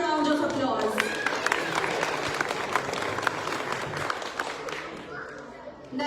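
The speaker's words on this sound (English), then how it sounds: "Let's give him another round of applause." Audience applause after a speech at a 68th Dhamma Chakra Pravartan Din event, a dense steady wash of many hands clapping at close range that thins and fades toward the end.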